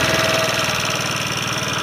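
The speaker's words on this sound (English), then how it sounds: "Oh, guys, it's starting to kind of idle up a little bit." A long-abandoned scooter engine idles steadily and loudly up close, a continuous rattling putter with a fast even pulse.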